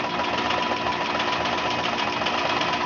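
A longarm quilting machine runs along a seam, its fast, steady mechanical stitching whir holding an even level throughout, heard close and alone.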